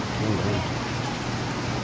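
Steady wash of rain noise, dense and continuous, with a voice faintly murmuring underneath.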